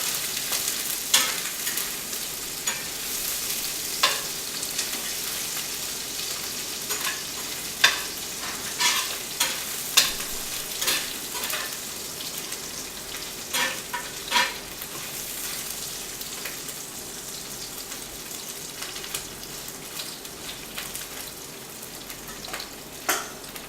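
Indian food frying and being stirred in hot oil, a steady broadband sizzle with repeated sharp scrapes and clatter of the stirring utensil throughout, close and fairly loud, no talking.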